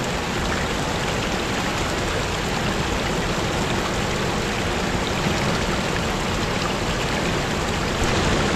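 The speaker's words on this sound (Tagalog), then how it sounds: "Tatabo po tayo ngayon ng tubig din sa bukal." Water flowing from a spring, a loud, steady, close rushing hiss that holds evenly throughout with no talk.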